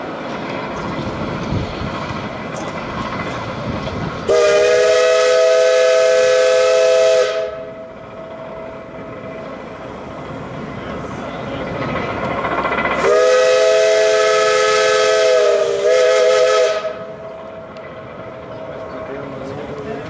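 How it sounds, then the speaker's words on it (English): A steam locomotive whistle on a narrow-gauge railroad near Cripple Creek, Colorado, blows two long, loud, steady blasts with a quiet gap between them, each cutting off abruptly over a background hiss. "miners would use steam whistles just like this one to indicate the start of shifts"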